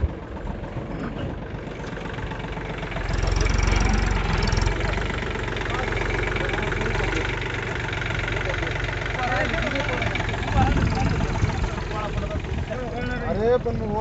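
Tractor engine chugging steadily while sowing native onion seed into raised beds on a farm, a continuous mid-pitched drone that swells a little partway through, with voices talking over it.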